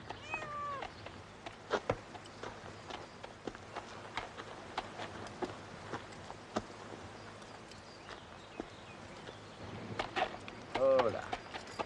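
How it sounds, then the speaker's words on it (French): A cat meows several times, faint and intermittent at first, then a louder cry near the end, under people talking in French and clattering footsteps. "Où te caches-tu, maudit chat?"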